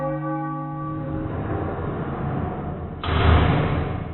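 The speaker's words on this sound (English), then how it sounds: "In Charleston, bells tolled the curfew every night" A church bell tolls in Charleston: a single resonant strike rings and slowly decays, followed by a dull thump as the tone fades, loud and close.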